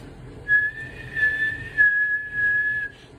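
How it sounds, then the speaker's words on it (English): A steady thin whistle of air escaping from a lobster boiling in a pot, a high tone that wavers and pulses in short swells for a few seconds, with no talk over it. "that whistling sound you hear when you boil a lobster"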